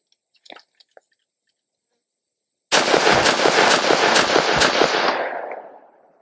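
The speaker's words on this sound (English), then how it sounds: "we're gonna shoot 5 rounds through it, charge it up, and see if it runs" Palmetto State Armory JAKL 13.7-inch 5.56 rifle with skeleton stock and GI magazine firing a rapid string of about five loud, close shots that blend into one sustained blast with a fading tail, after a few faint clicks of handling.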